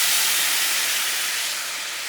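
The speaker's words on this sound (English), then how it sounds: "I'm going to add about half a cup, maybe 3/4 cup of drinking red wine" Red wine poured into a hot pan with flank steak drippings, a loud, steady, bright sizzle and hiss that slowly eases off, with no talking.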